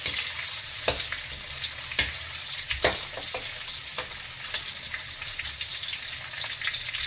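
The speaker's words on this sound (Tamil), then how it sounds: "கொஞ்சம் இஞ்சி பூண்டெல்லாம் கொஞ்சம் ப்ரௌன் ஆகுது பாருங்கள்." Ginger and garlic browning in hot oil as the base for a crab curry, giving a continuous close sizzle broken by sharp scrapes and clicks of a stirring spoon against the pan, with no voices.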